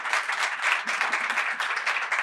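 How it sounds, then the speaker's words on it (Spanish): An audience claps warmly in a sustained, even round of applause, moderately near and without talk over it. "Le damos un aplauso con mucho, mucho cariño."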